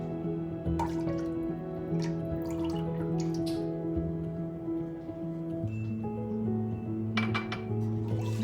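Cream sauce for an aloo qeema pie stirred in a metal pot, with repeated clinks and scrapes of a spoon against the pot over a steady background hum.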